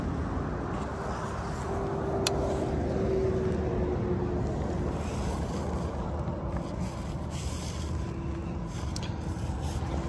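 A vehicle on a road trip through Europe on fresh tyres, heard as a steady low engine and road drone with a faint passing tone, continuous and fairly quiet.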